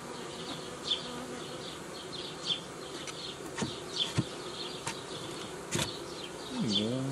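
Queenless honeybees buzz steadily inside a hive, a dense droning hum with occasional higher whines and a few soft knocks.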